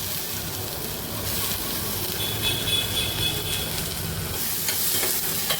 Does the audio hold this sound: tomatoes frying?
yes